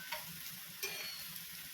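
Okra and tomato, dusted with turmeric, sizzle softly in a pan while being stirred, with a few sharp scraping clicks of the spoon against the pan over a quiet frying hiss.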